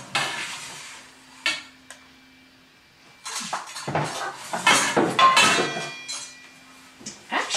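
Metal pans and bakeware clatter and clink as they are shifted through a kitchen cupboard, in irregular bursts of knocks and scrapes with quieter pauses between, close by and without speech.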